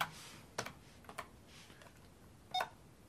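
Keys are pressed on a home-built hobby computer keyboard: a few separate clicks, close and fairly quiet, with short electronic beeps from the internal speaker in a quiet room.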